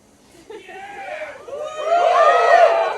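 Audience at a live poetry show in a tavern rising into cheering and whoops, building from scattered shouts to a loud, sustained crowd roar near the end.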